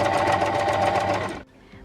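A sewing machine runs a straight seam, its fast, even mechanical rattle loud and close for over a second before stopping abruptly, leaving a quiet room.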